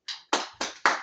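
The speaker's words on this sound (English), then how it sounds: "give them a round of applause" Four sharp hand claps in a steady rhythm, each ringing briefly in a room, from attendees at an Ika family meeting in France.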